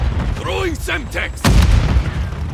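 A Semtex grenade goes off in Call of Duty Modern Warfare 3 multiplayer, a sudden heavy boom that follows shortly after an in-game voice shout and then rumbles on under continuing gunfire.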